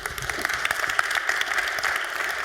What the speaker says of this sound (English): Please give our speaker, Gail, a warm round of applause.